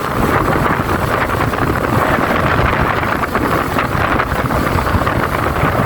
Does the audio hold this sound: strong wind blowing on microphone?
yes